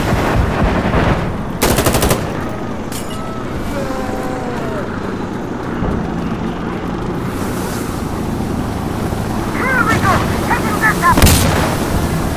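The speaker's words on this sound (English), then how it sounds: "Firing rockets." Rockets fire during an Insurgency Sandstorm match in loud rapid bursts close by, set against continuous rumbling gunfire and battle noise, with chatter over a radio.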